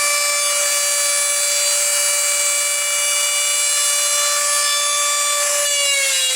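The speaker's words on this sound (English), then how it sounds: "supporting the back end of the Dremel with my hand" A Dremel rotary tool grinding on a gun part, held flat and braced at the back, gives a steady high-pitched whine that holds loud and constant, dipping slightly in pitch near the end.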